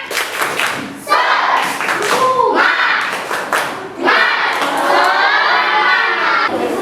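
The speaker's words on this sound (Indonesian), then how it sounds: "semuanya tepuk semangat" Classroom group of students cheering and shouting with bursts of rhythmic clapping during a coaching session, loud and close, with children's voices throughout.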